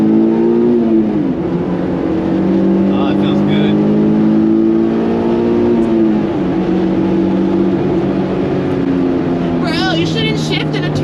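A Honda S2000 accelerating while driving, its engine note climbing steadily in pitch and holding loud and close inside the car, with a brief voice speaking over it.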